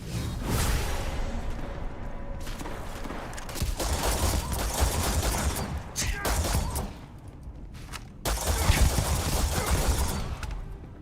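Sustained rapid gunfire from a weapon in the video game Starfield, loud and dense bursts with whooshes and thuds, briefly dropping off around the middle before resuming.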